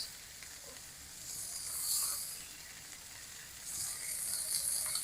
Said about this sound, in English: you want to have it at medium-high heat, and it does get a little bit sizzly